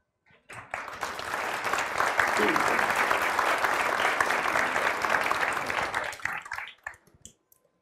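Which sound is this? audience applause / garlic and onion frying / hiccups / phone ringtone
audience applause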